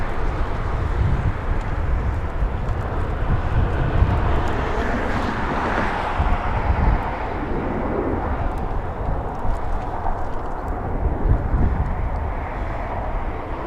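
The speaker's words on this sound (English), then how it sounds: "Little Airbus, this one flies in from where? Flying in from Denver, Colorado." An Airbus airliner arriving at Los Angeles International Airport from Denver gives a broad, steady roar of engine and rushing air that holds evenly throughout, loud and sustained with some wind buffeting.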